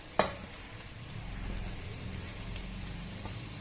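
Tomatoes cooking in a covered pan for Chennai-style biryani, a soft steady sizzle after a sharp knock from the lid at the start, faint and close with no voices.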